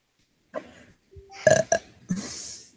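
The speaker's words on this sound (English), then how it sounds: "I burped." A person burps several times in short, loud bursts separated by brief pauses, close to the listener with no other sound around it.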